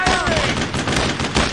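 Dense, rapid gunfire in Brothers in Arms: Road to Hill 30, with loud overlapping bursts of rifle and machine-gun shots crackling continuously in close range amid a battle din.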